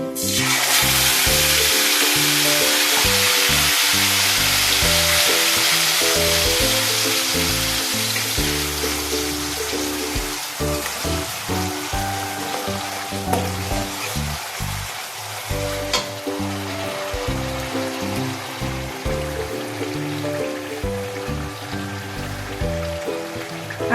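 Onion paste hisses and crackles loudly in hot oil in a pan for a Bengali aar fish curry with yogurt, with the sizzle strongest at first and easing slightly while music plays underneath throughout.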